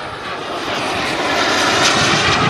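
A radio-controlled BAe Hawk model jet flies at the Jets Over Czech 2018 show, its loud turbine roar building steadily as it passes close by.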